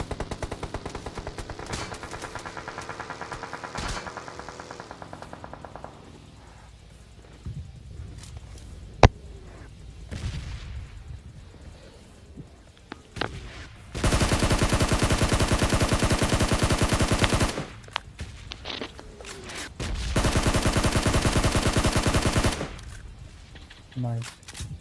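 Red zone bombardment on a Korea map in a video game roars up in two long, loud, dense barrages of blasts and rapid fire, with quieter stretches of in-game sound and some talking in between.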